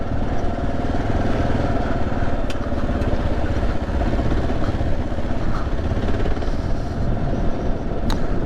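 A 2024 Kawasaki KLR 650 motorcycle engine drones steadily and close throughout a relaxed ride, with wind rush blended into the continuous low rumble and no talking.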